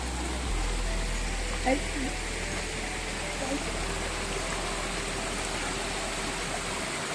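Stream water flows steadily near Rudreshwar temple with a constant close hiss and babble, and faint voices briefly rise above it.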